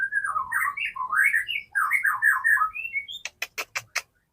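A white-rumped shama (murai batu) sings a run of varied, fluid whistled phrases, then gives a quick series of sharp, clicking chip notes, close and clear against a quiet background.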